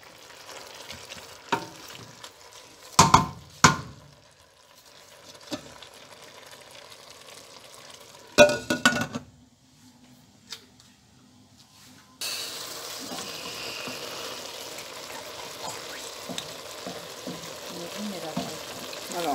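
Vegetables with cod and shrimp cook gently in oil in a pan. Quiet clinks and stirring knocks come first, then a steady soft sizzle takes over and holds to the end.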